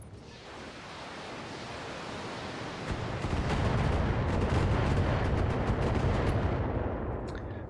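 A loud volley of missile fire in the BattleTech mech game, a dense rushing roar studded with rapid crackling bursts that builds and sustains without any voices.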